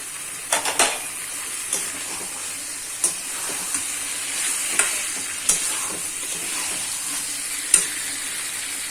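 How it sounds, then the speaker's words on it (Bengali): Prawns hit hot oil in a pan while cooking a Bengali pointed gourd and prawn curry, giving a steady close sizzle with a few sharp spatters and stirring clicks spaced through it. "এবারে চিংড়ি মাছটা দিয়ে দেবো।"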